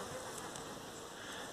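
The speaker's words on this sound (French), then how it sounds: "Pour toutes les abeilles qu'il y a dedans." Bees and flies buzz steadily among flowering mint in an edible forest garden, a dense, continuous insect drone heard close and alone.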